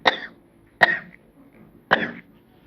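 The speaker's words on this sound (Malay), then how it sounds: "ada batuk-batuk sikit." Three separate coughs, close and fairly sharp, spaced out over a couple of seconds with quiet in between.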